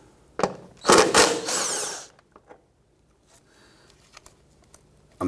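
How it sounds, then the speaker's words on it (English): A 10mm socket loosens and removes a bolt on a 2011-2015 Kia Sorento during front right CV axle replacement, with a few sharp ratcheting bursts followed by faint clicks and taps. "Use our 10mm socket, loosen and remove this bolt."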